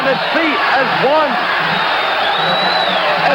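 Boxing arena crowd roaring and whooping during round 12 of Arguello vs. Escalera, a loud sustained wall of cheering with whistles and shouts, dense and continuous throughout.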